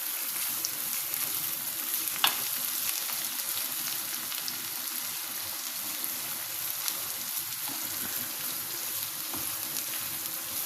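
A pasta and meat mixture stirred and frying in a pan, with a steady, loud, close sizzle throughout and occasional scraping of the stirring, no voices.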